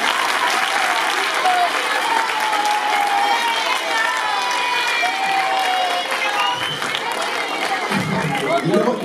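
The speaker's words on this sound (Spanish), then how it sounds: "yo os voy a pedir un fuerte aplauso para vuestros profes" An audience at a human rights event in Fuenlabrada applauds the teachers with sustained, dense clapping from a large crowd, steady and loud throughout, with a few voices mixed in.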